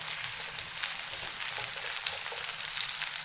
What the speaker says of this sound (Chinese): 锅留底油，下入葱姜蒜，开中小火给它煸炒出香味